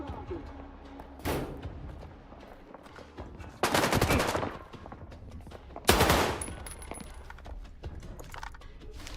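AK rifle fire in STALKER 2 arrives as several separate loud bursts of gunfire, the longer ones near the middle and later on, set over quieter game ambience.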